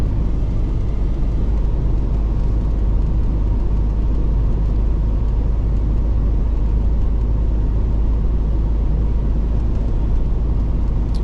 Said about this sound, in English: Container truck.